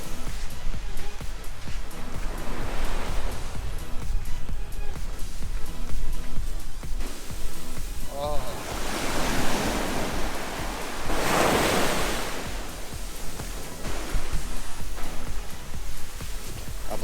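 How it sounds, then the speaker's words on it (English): Surf rolls onto a beach near Mackay, Australia, with waves breaking and washing in long surges, close and loud, mixed with wind buffeting the microphone and no speech. "that's a typical Australian beach"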